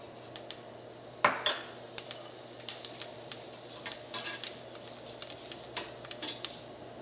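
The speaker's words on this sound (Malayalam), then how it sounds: "അപ്പം ജീരകം എണ്ണയിൽ കിടന്ന് നന്നായിട്ട് പൊരിഞ്ഞിട്ടുണ്ട്." Cumin seeds fry in hot oil in a pan, added after mustard seeds for a spicy cabbage masala, giving quiet scattered crackles and sharp pops over a low background hiss.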